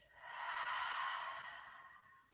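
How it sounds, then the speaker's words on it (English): During a calming yoga practice, someone exhales slowly and audibly, a faint breathy rush of air held for nearly two seconds before tapering off. "Breathing out."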